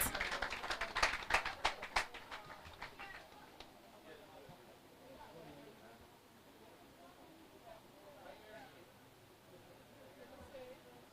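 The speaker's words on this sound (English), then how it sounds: "Can we just get a round of applause for Miss," Brief burst of scattered hand clapping at a Jamaican media launch, loud at first then quickly thinning out into murmuring crowd noise and light background chatter.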